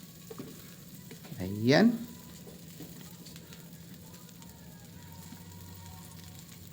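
Dried small shrimp frying in a pan, giving a faint, steady low sizzle throughout, with one short spoken interjection partway through.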